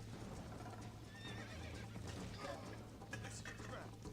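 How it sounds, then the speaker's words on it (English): Horse neighing and hooves clip-clopping in Red Dead Redemption, a steady game soundscape with a whinny rising near the middle and a low hum underneath, some faint talk mixed in. "I have no idea how to work that horse in Red Dead 1"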